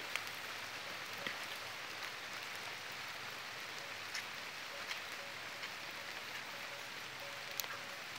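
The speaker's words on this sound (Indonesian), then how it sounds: "wah hujan ini" Steady light rain patters on a surface in Bali, a soft continuous hiss with occasional louder drips, no voices.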